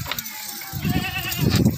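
A Beetle breed goat bleats at a livestock market, a close, loud, wavering bleat rising over murmuring background chatter.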